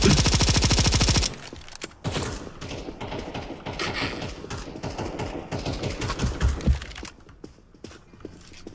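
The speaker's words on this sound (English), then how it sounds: "Proceeds to shoot." Counter-Strike gunfire with an XM1014 shotgun: a loud rapid burst at first, then a long run of repeated shots and thuds at lower level, fading into quieter game ambience.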